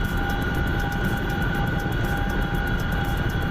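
A fixed-wing aircraft drones overhead in a combat video game, a dense continuous engine roar with steady tonal hum that holds loud and unchanging throughout.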